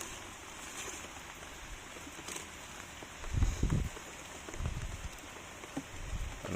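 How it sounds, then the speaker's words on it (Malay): Steady rain patters on surfaces all around at a durian seedling planting spot, a soft continuous hiss with a few heavier drips and thuds up close. "Hujan ni berair eh."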